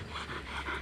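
Hunting dog panting close by outdoors near a river before dawn, a short run of quick rhythmic breaths.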